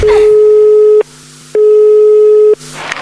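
A steady telephone busy tone sounds in two long beeps separated by a short gap, loud and clear over faint line noise.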